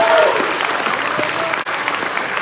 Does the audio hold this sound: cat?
no